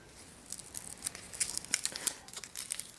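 Backing paper peeled off fabric after iron-on adhesive has cooled, a close, quiet stream of crinkly crackles and small tearing ticks lasting a few seconds, with no talking.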